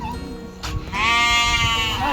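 Sheep bleat loudly and close by in a farm pen, one long sustained wavering call following a shorter bleat, with barnyard rustle underneath.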